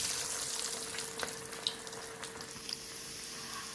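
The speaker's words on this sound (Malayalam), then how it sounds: "എണ്ണ ചൂടായിട്ടുണ്ട്, നമുക്ക് കട്ട്ലറ്റ് ഇട്ട് വറുത്തെടുക്കാം." Chicken cutlets, Thiruvalla style, fry in hot oil with a steady, soft sizzle broken by a few faint pops and crackles, heard up close and alone.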